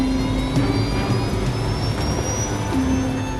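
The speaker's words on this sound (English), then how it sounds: "The pilots try using engine power to turn the airplane towards Haneda." Boeing 747 jet engines roar loud and constant as power increases, with a slowly rising whine over a heavy low rumble and no voices.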